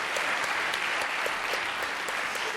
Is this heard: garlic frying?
no